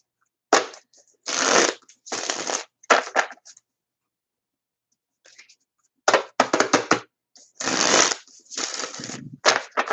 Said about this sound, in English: So let's give them a nice little shuffle.